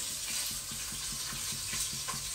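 A spoon stirs red beans for zambrokal in a sizzling pot, making steady rhythmic strokes about every quarter second over continuous frying hiss, close and fairly quiet.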